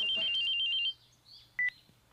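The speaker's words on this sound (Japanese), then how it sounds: "これはな、携帯電話とか。" A mobile phone rings in a short beeping electronic pattern for under a second, followed by quieter tones and a brief higher beep, heard faintly over a low steady hum.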